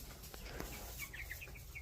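Backyard farm chickens cluck softly in a short, faint series of calls from the coop, low-level and close by during evening chores.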